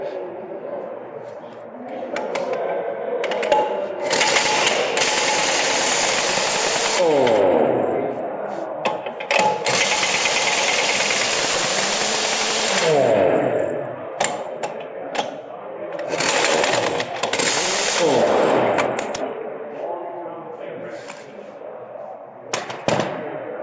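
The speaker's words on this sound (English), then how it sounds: "we're going to take off the remaining bolts." Power tool spinning off the remaining bolts during a car brake inspection, with several loud bursts of ratcheting impact-gun rattle separated by pauses and small metallic clinks.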